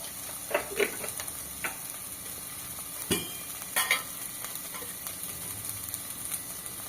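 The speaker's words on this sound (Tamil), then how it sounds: "போட்டு இதை வதக்கிடுவோம்." Steady sizzling of cluster beans sautéing in a pan, with occasional clinks and scrapes as they are stirred, no voices.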